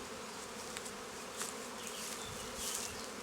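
Honey bees swarm over a hive as two colonies are being merged, making a dense, steady buzzing hum close by, with a few individual bees whining past the microphone.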